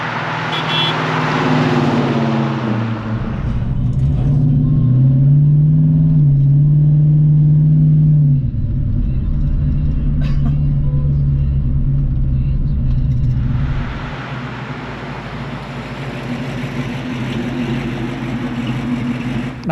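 A numbers-matching 1969 Plymouth Hemi Road Runner with its 426 Hemi V8 rumbles loudly as it accelerates and drives past, the deep engine note rising, holding, then easing back to a lower steady drone.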